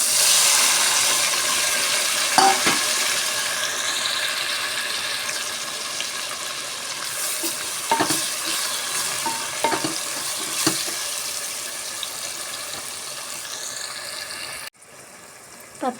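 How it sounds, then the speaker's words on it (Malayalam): Tomatoes frying into biryani masala in a pan give a loud, hissing sizzle that slowly settles, with scattered spatula scrapes and clinks, close up with no talking, before cutting abruptly near the end. "അപ്പം ഇനി തക്കാളി ഇട്ട് കൊടുക്കാം"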